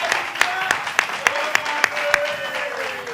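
An audience applauds a team at a live game show, with sharp claps landing in a steady rhythm about every third of a second over a sustained tone and background noise.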